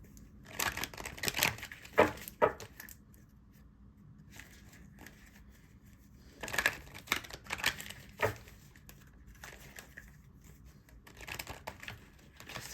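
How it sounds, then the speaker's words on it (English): Oracle cards are shuffled and pulled from the deck, giving soft papery crinkles, slides and riffling bursts at close range, separated by quiet gaps. "I am going to pull some oracle cards now."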